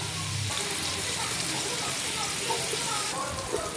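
Onions sautéing in a pan for homemade biryani give a steady, close sizzle and crackle, with faint stirring underneath throughout.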